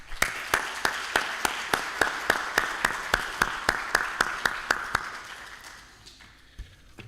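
Sparse applause at a space studies program closing ceremony, heard as a slow, evenly spaced series of single sharp claps in a large room that carries on for about five seconds, then fades to quiet room tone.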